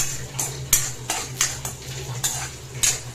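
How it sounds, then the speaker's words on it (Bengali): Red amaranth greens with garlic, green chilli and nigella seeds being stir-fried in a pan. A utensil scrapes and clinks in about eight rhythmic strokes over a soft sizzle, close and fairly loud, with no talking. "তো শাকটা আগে ভেজে নিই।"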